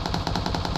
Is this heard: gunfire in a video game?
yes